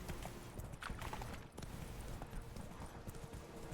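Roach the horse gallops in The Witcher 3, a steady rapid clip-clop of hooves over continuous game ambience, close and fairly loud throughout.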